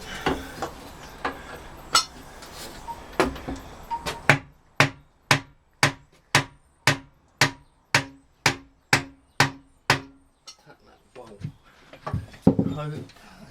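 Hammer striking a block of wood to line up a bolt while fitting the engine into a Honda CB450 motorcycle frame: about fourteen sharp, evenly spaced knocks in a steady run, close and loud, with a few scattered knocks before and after.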